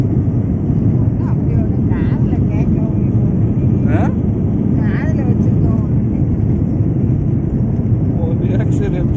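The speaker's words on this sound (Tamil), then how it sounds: "இப்போ பயங்கர ஸ்பீடாக போயிட்டுருக்கு ஃப்ளைட்டு." A passenger airliner on a Chennai to Dubai flight races down the runway during its takeoff roll, heard from inside the cabin as a loud, continuous, rushing roar. Faint voices sit underneath.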